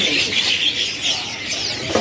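Cipau birds chirping in a stall at Pramuka bird market, a dense chorus of high, overlapping calls and twitters that keeps going without a break, fairly close and bright, with no talking.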